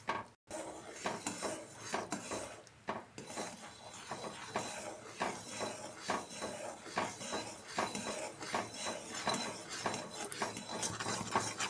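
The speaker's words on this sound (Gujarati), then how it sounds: "ગોળ પૂરો ઓગળી જાય ત્યાં સુધી આપણે એને હલાવશું" A spoon stirs melting jaggery in a pan while making Uttarayan chikki, giving continuous scraping and clinking against the metal that runs steadily throughout, with no talking.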